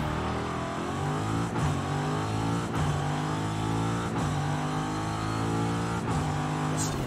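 A Chevrolet 150 Utility Sedan with a turbocharged stock engine revs steadily and loudly, the engine note rising through sustained acceleration with brief dips at gear changes.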